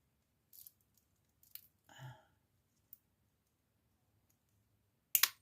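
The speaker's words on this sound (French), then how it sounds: "Donc, on coupe." Small scissors snipping while making bead earrings: a few sharp, brief clicks and snips spaced apart in a quiet room, with a soft rustle midway and a louder snip at the end.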